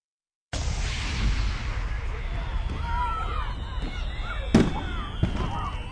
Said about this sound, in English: How about them fireworks? Pretty cool, huh?